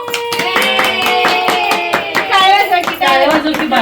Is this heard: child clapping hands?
yes